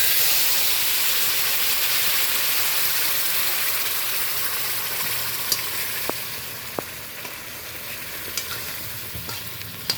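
Egg bhapa steaming in a covered kadai over low heat gives a steady, soft hiss that holds throughout, with a few faint clicks near the end and no voices.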